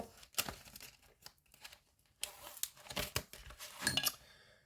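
Banknotes and paper envelopes are handled up close, giving a string of quiet crinkles, rustles and brief tearing-like swipes in uneven bursts with short pauses between them.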